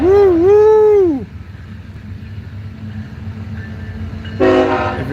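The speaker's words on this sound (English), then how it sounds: "Here comes the train." A train horn blasts loud and close for about a second, then a rumbling train rolls past under steady low noise, with a second horn-like tonal burst near the end.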